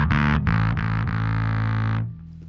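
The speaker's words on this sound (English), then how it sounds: "Set the blend all the way up, drive and distortion all the way up as well." Bass guitar run through a Headrush amp modeler with blend, drive and distortion all turned up: a few short fuzzy notes, then one long gritty sustained note that cuts off abruptly, loud and alone.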